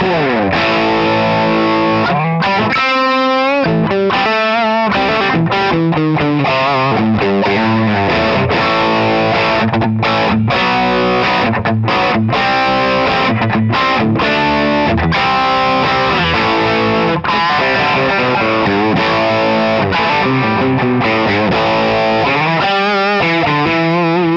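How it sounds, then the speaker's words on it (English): Electric guitar heavily distorted through a Rat distortion pedal, playing chords and single-note lines in the bridge position, loud and continuous with sustained fuzzy crunch and sharp stops between phrases. "I just added a little rat distortion pedal. Let's try it in the bridge."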